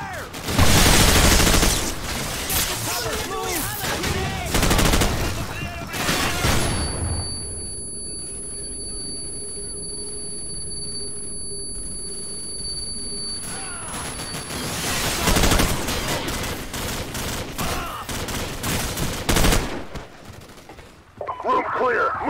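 Bursts of rapid machine gun fire in Call of Duty 4: Modern Warfare during a building assault, loud crackling volleys at the start and again in the middle and end, with a quieter lull between and voices shouting.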